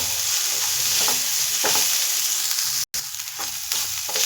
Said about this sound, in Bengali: তো সবজিটা একটু ভাজা ভাজা হয়ে গেছে